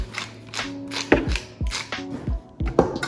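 A food processor pulses a finely chopped mushroom mixture seasoned with salt and pepper: about six short, sharp bursts of whirring and chopping, separated by brief pauses, close and fairly loud.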